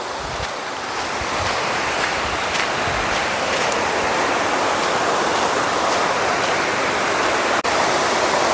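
Water spilling over the Ajapur check dam makes a steady, loud, broadband roar like surf or a waterfall, unbroken for the whole stretch with no voices.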